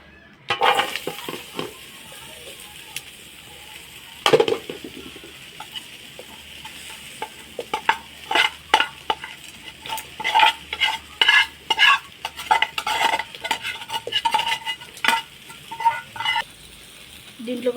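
Raw banana fry being stirred in a frying pan for crispy aratikaya fry, a spoon scraping and tossing the pieces in repeated close bursts over a faint sizzle.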